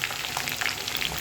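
Crushed garlic sautéing in hot oil with curry leaves, dried red chillies, green chillies and vadagam, giving a steady close-up crackling sizzle throughout, with no voices.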